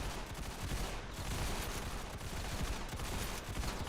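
Winchester Model 1895 rifle fire in the video game Ravenfield, amid a dense, continuous din of battlefield gunfire that stays loud throughout.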